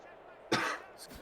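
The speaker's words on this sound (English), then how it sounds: "can you stop coughing, please?" A single sharp cough bursts out, followed by a softer second cough a moment later, close and fairly loud against a quiet room.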